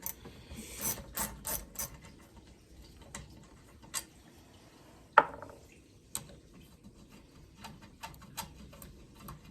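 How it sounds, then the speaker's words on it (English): A 12mm socket on a ratchet gives quiet, irregular ticking clicks as it loosens bolts on a Yamaha outboard lower unit, with one sharper metallic clack midway and no one talking. "I got a 12mm socket here. I had to use a breaker bar initially to loosen these babies up."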